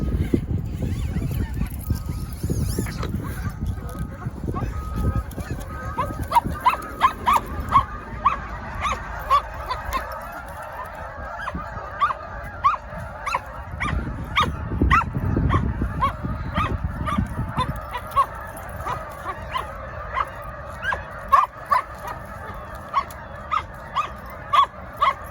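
A bird dog barks and yips repeatedly outdoors, sharp close barks in irregular bursts with some whining, over wind and rustling, with occasional talking.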